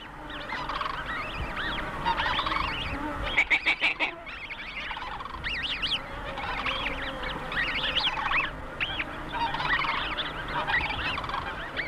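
Snow geese call repeatedly across open tundra in a busy chorus of honking with overlapping nasal calls, near and far, and a brief burst of rapid clucking around the middle.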